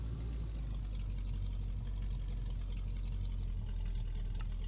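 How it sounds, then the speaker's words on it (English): A low, steady truck engine drone in a video game rumbles continuously at an even level, with no talking over it. "Get to listen to those great new engine sounds."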